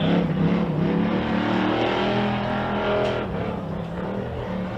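A two-seat Pro Light off-road race buggy's engine roars continuously at high revs on a short course track, loud and steady, with a slight dip in pitch as it moves along.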